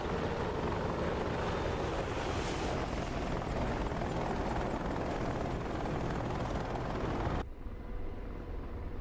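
An Apache AH-64 helicopter in a video game flies with a loud, steady rotor and turbine roar, continuous and dense, dropping off abruptly near the end.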